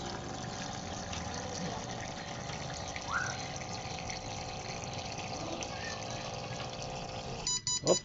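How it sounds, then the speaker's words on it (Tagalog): Steady water flow pouring from a vending machine spout into a container, a continuous hiss with a brief voice near the end. "Tingnan mo kung gaano ka-accurate ang labas ng tubig nito."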